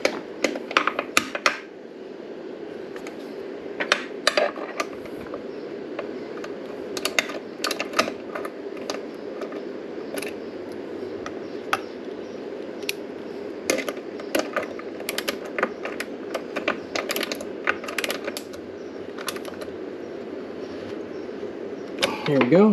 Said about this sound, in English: So I went and got a box end ratcheting, and this should work just fine.